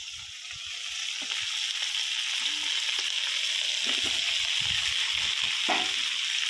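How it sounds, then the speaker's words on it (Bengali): Fried garlic and potatoes going into a pot of goat heads simmering in spices, giving a steady close sizzle with scattered stirring scrapes and clinks, and nobody speaking. "এবার ভেজে রাখা রসুন আর আলুগুলো দিয়ে দেবো।"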